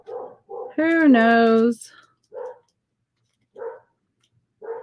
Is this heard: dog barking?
yes